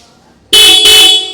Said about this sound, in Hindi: हॉर्न साउंड सुना देता हूँ मैं।